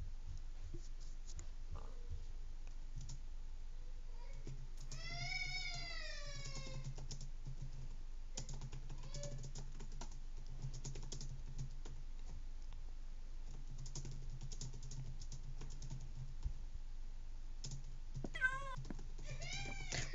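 A cat meows in the video game Minecraft, two drawn-out meows a dozen seconds apart over faint key tapping and low rumble.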